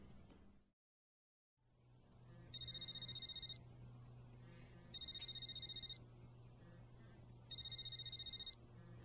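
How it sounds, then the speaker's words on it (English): A telephone rings three times at a steady interval, each ring a bright electronic trill lasting about a second, fairly close and loud over a low continuous background hum. "Pick up the phone!"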